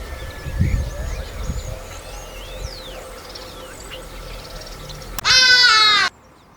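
A crow in South Africa lets out one loud, harsh, drawn-out caw near the end. Before it, faint chirps from other birds sit over a low outdoor rumble.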